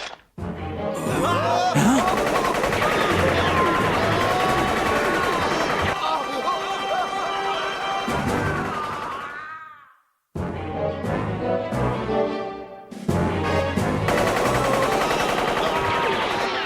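Sustained machine-gun fire roars through an animated action scene, a dense continuous barrage that cuts out abruptly midway and then resumes, loud and close, with voices shouting over it.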